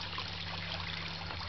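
Water trickling steadily from a backyard pond filter, a soft continuous splashing with a low pump hum beneath, fairly faint and alone.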